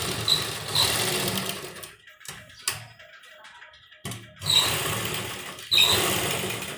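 Sewing machine stitching a baby combination suit, with close, loud mechanical bursts of whirring that stop for a couple of seconds and then start again.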